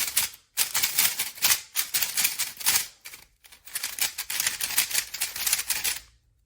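A MoYu V11 speed cube is turned rapidly by hand, producing dense, crisp plastic clacking in fast bursts with brief pauses between sequences, close and loud, with no talking.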